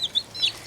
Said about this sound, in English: one of them arrived dead, so I've got 29 broilers, meat birds